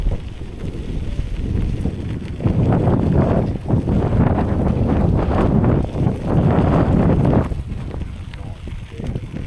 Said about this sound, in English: Little headwinds here out on the open.